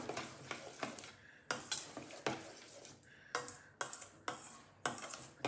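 A utensil stirs a creamy salpicão salad mixture in a bowl in a home kitchen, giving rhythmic wet scraping strokes roughly every half second, close and fairly soft, with no talking.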